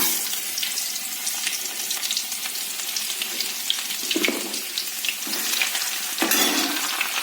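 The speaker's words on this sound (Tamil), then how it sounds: "இப்போது நான் இஞ்சி பூண்டு பேஸ்ட்டு போட போகிறேன்" Ginger-garlic paste sizzles steadily in hot oil, a close broadband frying hiss with occasional spoon scrapes and stirs, for a banana-flower egg stir-fry; no voices.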